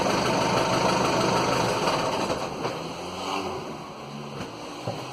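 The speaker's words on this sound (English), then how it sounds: "I'll shut off the engine now." An idling boat engine on a Nelson 34 rumbles loudly, then winds down and cuts out, leaving a few soft knocks and lapping water.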